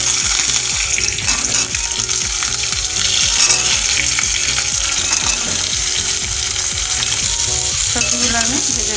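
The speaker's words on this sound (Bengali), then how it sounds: "সবজিগুলো আমি ভেজে নেব" Vegetables fry loudly in a pan over tempered panch phoron, mustard seeds and a dried chilli for a neem leaf curry, a dense continuous sizzle with scraping stir strokes and utensil clatter throughout.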